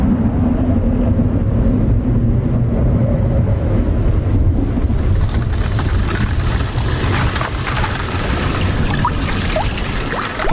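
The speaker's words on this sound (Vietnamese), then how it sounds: "tiếng sấm vang lên từ phía xa và mưa cũng đã đổ xuống" Rain pours down on a harsh desert landscape with thunder rumbling in the distance, a loud, dense wash of falling water and low rolling rumble that carries on throughout without pause.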